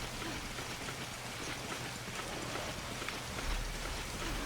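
Steady rain in the video game Monster Hunter Freedom Unite, a dense, even hiss of falling drops that stays quiet and continuous throughout.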